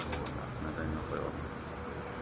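Pigeons cooing on a rooftop where squabs are being raised, a soft continuous murmur of coos over a steady background hum, with low voices talking nearby.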